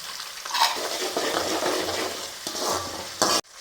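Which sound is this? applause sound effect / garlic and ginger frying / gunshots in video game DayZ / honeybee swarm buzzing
garlic and ginger frying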